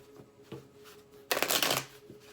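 A deck of tarot cards is shuffled in one quick, riffling burst of about half a second, preceded by a few faint soft taps and handling sounds in a quiet room.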